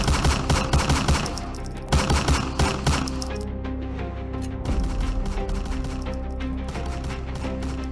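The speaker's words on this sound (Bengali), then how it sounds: "মনে হচ্ছে বাইরে গোলাগুলি হচ্ছে।" Gunfire sound effect in a comedy drama, loud rapid bursts of automatic fire like a machine gun, with sharp repeated shots in clusters and fading echoes between them.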